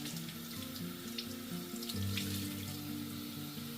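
A Platycerium elephantotis staghorn fern soaks in water, with a steady running, gurgling wash of water and bubbling close by, alongside low humming tones throughout.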